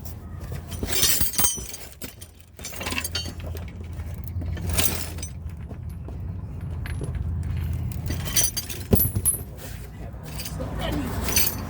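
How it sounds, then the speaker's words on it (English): Metal lug nuts clinking and rattling as they are fitted by hand onto a wheel of a 2011 Ford Crown Victoria, several sharp metallic clinks scattered over about twelve seconds, with talk at times. "All right, let's get the lugs in."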